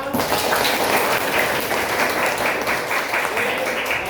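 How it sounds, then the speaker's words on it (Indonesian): Audience applause at a school teaching session, a steady dense wash of clapping held at an even level throughout, with some voices mixed in. "Aplaus sekali lagi buat kalian."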